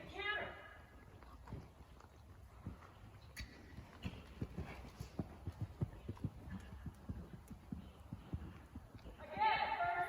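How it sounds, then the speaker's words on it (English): A horse canters during a training session, its hooves landing as soft, rhythmic thuds at a steady gait, fairly distant, with a voice briefly audible. "So now we're going to take it to the canter."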